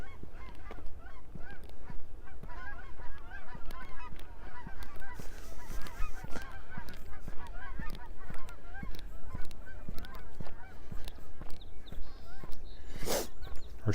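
A flock of geese honking in flight along a creek in Regina on an early spring day, a dense, steady chatter of overlapping honks at middle distance, continuing without pause, with a brief louder noise near the end.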